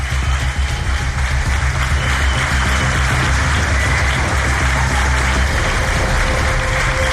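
Sustained audience applause fills a casino hall in Cantabria, Spain, a dense, steady wash of clapping that stays loud and even from start to finish with no voices breaking through.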